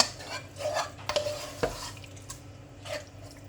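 Meat sauce scraped and spread with a spoon across a lasagne dish, a few soft scrapes and clinks of utensil against the dish, close and fairly quiet.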